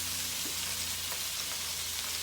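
Meatballs sizzling in a Power XL cooker while being stirred and flipped, a continuous bright crackling fry that holds steady and close throughout with no talking.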